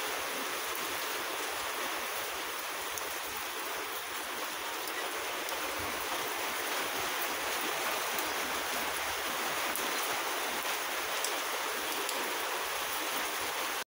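Heavy typhoon rain pouring down steadily, a dense, constant wash of noise with no pauses, close and enveloping throughout.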